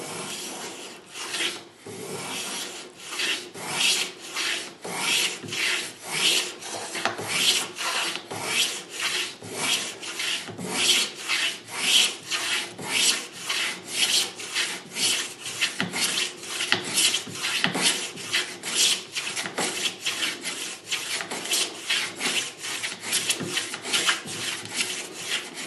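A Record 43 plough plane cuts wood shavings in quick repeated strokes, each pass a sharp rasping swish in an even rhythm, close and clear with no talking.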